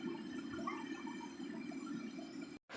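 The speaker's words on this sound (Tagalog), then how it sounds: "malakas na yung tubig galing sa itaas" Strong floodwater rushes down from upstream in a steady, even roar, heard alone at a low level before cutting off abruptly near the end.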